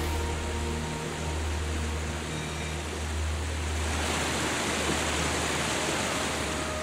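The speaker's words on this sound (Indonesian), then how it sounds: "Ada beberapa air terjun, yaitu air terjun Dayam Bulungolo dan Dayam Serian." Dayam Bulungolo waterfall in the hills near Modang village, a steady broadband rush of falling water, continuous and fairly distant, with a faint tonal hum at the start.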